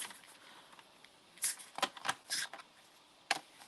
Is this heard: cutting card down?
yes